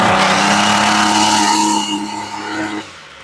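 A Ryobi string trimmer's small gas engine roars loudly and close up on partial choke, holding a steady high drone before its pitch wavers and it fades and stumbles near the end.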